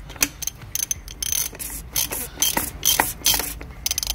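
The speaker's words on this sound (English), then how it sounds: "We've got a 32mm socket, ratchet extension, anti-clockwise." A ratchet with a 32mm socket and extension turning anti-clockwise to undo the oil filter cap on a 2012 Audi A1, rapid close clicking bursts in uneven runs with no talking.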